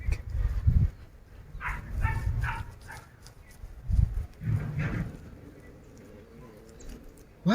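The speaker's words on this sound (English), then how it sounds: "those are our puppies. They are very hungry." Hungry puppies bark and yip in a village yard, several short, fairly close bursts spread across the moment, with softer whimpering between them.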